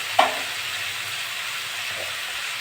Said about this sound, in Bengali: বিটলা আলুটা 4-5 মিনিট মতো আমি ভেজে নিয়েছি।